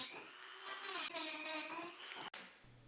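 A rotary tool fitted with a cutting disc whines steadily as it cuts through carbon fiber, loud and close for about two seconds before stopping abruptly, leaving a quieter hum behind.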